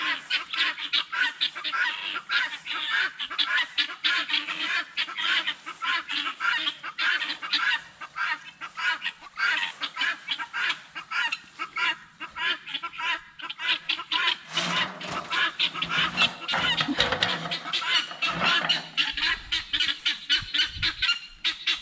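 A four-month-old broiler guinea fowl calls over and over, harsh rapid cackling honks in quick bursts that run on for about twenty seconds, close and loud, louder and rougher near the end.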